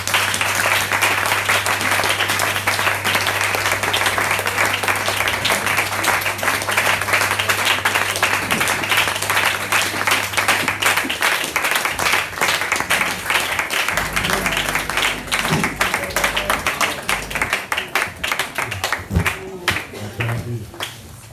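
A church congregation applauding to acclaim the Lord, dense rhythmic clapping that runs loud and continuous for about twenty seconds, with voices faintly underneath.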